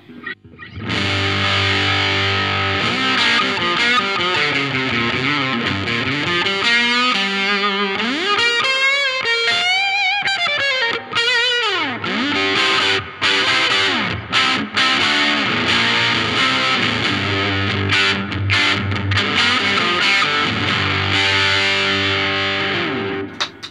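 An electric guitar played through a Formula 55 overdrive pedal rings out with warm, gritty distortion and reverb, sustained chords and bending lead phrases filling a loud, continuous passage with no talking.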